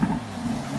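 Audi R8 RWS pulling away, a steady low engine drone with a broad rumbling hum and wind-like rush, continuous and fairly loud from inside the car.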